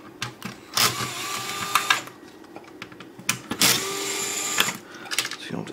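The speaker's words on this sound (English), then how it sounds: "I'm actually going to switch to a little power drill here thing to make it go faster." A small power drill backs screws out of a game console with a GD-ROM unit, giving short high whirring bursts separated by pauses, with faint clicks between them.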